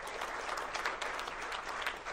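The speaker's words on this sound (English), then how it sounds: "Big round of applause for it." Audience applause at a launch event fills the whole stretch with dense, steady clapping from a crowd indoors, loud and continuous without pause.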